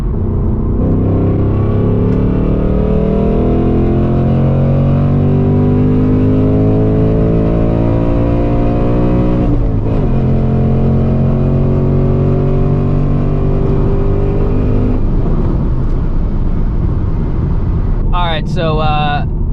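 A 2024 Mustang GT running an E30 ethanol blend pulls hard in third gear, its engine note climbing steadily and loud from inside the cabin, with a brief shift dip midway and a few chirps near the end.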